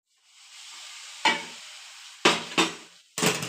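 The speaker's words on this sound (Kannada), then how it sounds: "ಹಾಕ್ಕೊಂಡು ಚೆನ್ನಾಗಿ ತಿರುಗಿಸ್ಕೊಡ್ಬೇಕು. ಮತ್ತು ಈ ರೀತಿ ತಿರುಗಿಸ್ಕೊಡ್ತಾ ಇರಬೇಕು ನೋಡಿ." Mysore Pak mixture with extra oil added is stirred in a pan, giving a steady low sizzle broken by several short scraping strokes of the spoon, close and alone.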